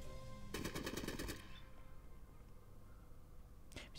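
Video game gunfire in Fallout Tactics: a rapid automatic burst rattles for about a second, followed by quiet and a second short burst right at the end.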